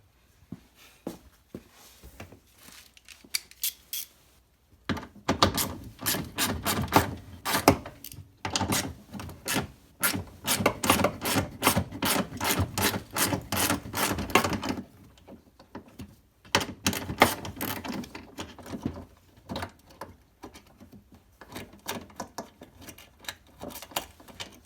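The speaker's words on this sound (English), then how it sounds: "So remove a 210 mil bolt." A 10 mm bolt being worked loose from the tail light of a Toyota MR2 with a ratchet, rapid rhythmic clicking in long runs broken by short pauses, close and fairly loud.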